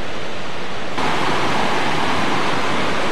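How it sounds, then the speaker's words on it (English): A cold river in Olympic National Park gives a constant, loud broadband rush of flowing water that grows fuller after a second, with no voices. "There's the river."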